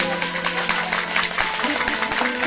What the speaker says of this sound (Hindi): एक बार जोरदार ताली हमारे बच्चे के साथ।